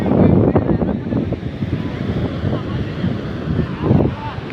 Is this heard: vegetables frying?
no